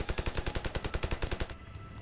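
Rapid machine gun fire from a WW1-style trench defense in the Ravenfield video game, about a dozen evenly spaced sharp bursts in a steady rhythm for a second and a half, then cutting off into a faint tail.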